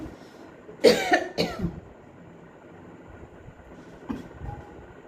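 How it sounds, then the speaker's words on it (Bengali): Two loud, close coughs come in quick succession near the start, followed after a pause by a softer throat-clearing sound over quiet room noise. "কাশি আসছে"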